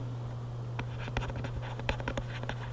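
A pen scratching out quiz answers on paper, a run of quick, faint strokes and taps over a steady low hum, with no talking.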